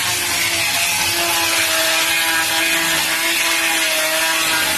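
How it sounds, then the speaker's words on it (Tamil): An angle grinder sands body filler paste on the body of a 1997 Maruti 800 car, a loud continuous abrasive whine and rasp held steady and close throughout. "கிரைண்டிங் ப்ராசஸ் தான் நீங்கள் பார்த்துட்ருக்கீங்க."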